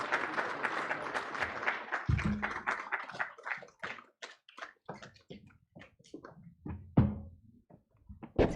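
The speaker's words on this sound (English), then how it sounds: "Please, everyone, give them a warm round of applause." A summit audience applauds, starting as a full round of clapping that quickly thins into scattered individual claps and a few lingering hand claps near the end.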